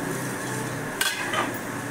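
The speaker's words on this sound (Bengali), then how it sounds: "শাকটাকে অল্প ঢেকে দিই, তাড়াতাড়ি মজে যাবে। ঢাকনাটা উল্টিয়ে দেখি।" A metal lid is lifted off a pot of khudra greens cooking in a kitchen, giving a brief clink and scrape in the middle of a steady sizzling hiss.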